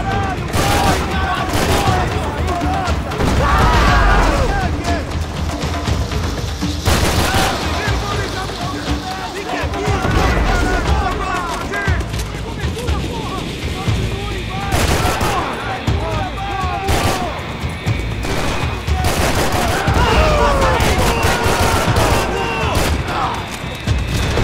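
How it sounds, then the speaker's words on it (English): Grenade blasts and bursts of gunfire pound continuously through a firefight in the Max Payne 3 shooter game, loud and close, with a voice speaking over the chaos. "That grenade landed."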